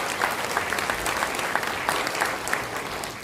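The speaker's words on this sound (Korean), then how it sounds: "자, 우리 박수 한번 주시겠습니다." A church congregation at a pastor's installation service gives a burst of steady, full applause that continues at an even level throughout, with scattered sharper claps standing out.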